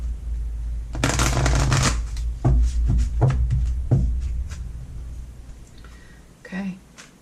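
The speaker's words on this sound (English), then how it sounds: "One more shuffle." Oracle cards being shuffled by hand, a close, crisp riffle and rapid flutter of card stock in bursts, followed by a few softer taps and slides while a person talks.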